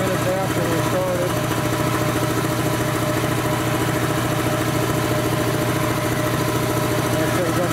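A 7.5 hp Dayton Speedaire air compressor runs steadily during an oil test with Tribodyn diesel oil, a loud continuous mechanical drone with constant pulsing from start to finish.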